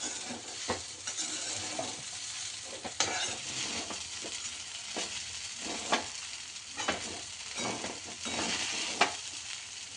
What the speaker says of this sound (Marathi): चांगलं परतायचं, एकसारखं सगळीकडे भाजायचं शाबू